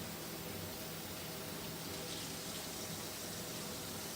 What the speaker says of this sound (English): So what I like to do is rinse my freshly hot pasta through hot water, and I like to pour it in my strainer.